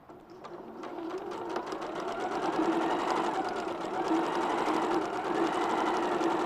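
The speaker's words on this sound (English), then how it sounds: "Please, can I plug my sewing machine in?" A sewing machine runs steadily and close by, its rapid needle chatter building to a constant mechanical hum with no talk over it.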